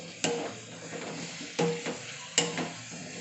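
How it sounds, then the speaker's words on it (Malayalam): A kilogram of tapioca with green chillies is stirred in a sizzling pan, with three sharp scraping stirs over a soft, steady frying hiss, heard up close. "1 കിലോ കപ്പ. ഇനി ഇളക്കിയെടുക്കട്ടെ."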